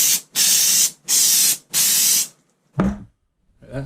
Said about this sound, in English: Hit it with some one-shot case lube.